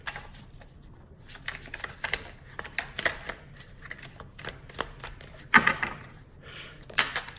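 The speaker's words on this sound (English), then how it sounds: "I didn't shuffle enough, so I'm going to keep shuffling" A Mystic Moon Oracle card deck is shuffled by hand up close, giving irregular bursts of papery riffling and slapping, with one sharper snap partway through.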